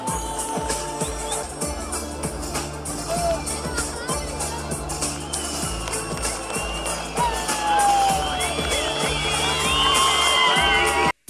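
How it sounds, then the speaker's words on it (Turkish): A crowd at an ice cream festival stage in Kahramanmaraş cheers and shouts loudly, with children's voices and whoops in a continuous, dense roar, while someone speaks over it. "Alkışlayalım mı arkadaşlar?"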